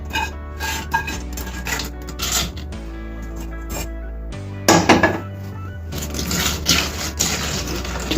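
Scraping and rasping of a spoon mixing thick tomato pickle with its oil tempering in a bowl, with occasional clinks and thunks, close and fairly loud, no talking.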